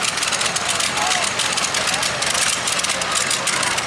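A pulling vehicle's engine roars continuously at a Manitoba prairie motorsport event, loud and dense with heavy exhaust noise filling the whole stretch without a pause.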